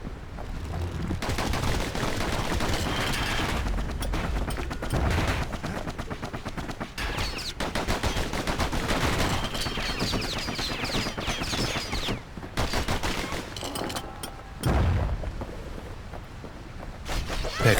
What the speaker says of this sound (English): Know what's better than having a slinger pistol in a fight? Having two.